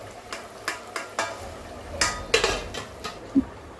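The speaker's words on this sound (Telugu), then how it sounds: "ఇలా సపరేట్ అయ్యేంత వరకు ఫ్రై చేసుకోవాలి" Goat brain fry cooking in an oily pan, with a spoon or spatula scraping and tapping against the metal in rhythmic strokes over a soft sizzle, heard up close without talking.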